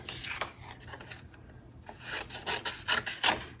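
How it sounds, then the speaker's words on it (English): Snips cut around an embossed paper card in a series of quiet, scratchy rasping bursts that grow denser and louder toward the end. "I'm going to take my snips"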